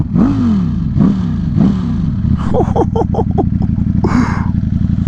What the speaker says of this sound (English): Like the Ducati has just like a prestige to the name, like the looks, the sound. I mean, listen to that.